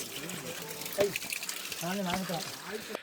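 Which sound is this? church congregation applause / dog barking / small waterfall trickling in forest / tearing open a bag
small waterfall trickling in forest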